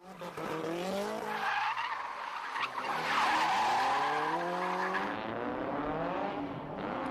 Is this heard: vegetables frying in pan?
no